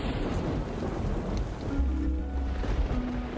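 Thunderstorm ambience from the Superbrothers: Sword & Sworcery EP video game: steady rain hiss with a low rolling rumble of thunder swelling partway through, continuous and fairly loud with no speech.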